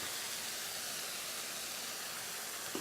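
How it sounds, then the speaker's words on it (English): White wine poured into a hot risotto pan sizzles in a steady, broad hiss that stays close and even throughout, with no voices over it. "And that's the sound you want to hear, that sizzle."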